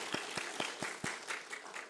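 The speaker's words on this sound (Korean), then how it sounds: "우리 박수로 환영합시다" Church congregation on Easter Sunday applauding to welcome a member back from military service, several sharp, distinct claps rising above a softer spread of clapping, moderately quiet and close.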